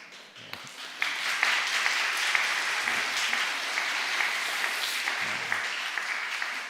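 A church congregation at an Easter Sunday joint service gives a sustained round of applause, a dense, even patter of many hands that holds steady, moderately loud, for several seconds.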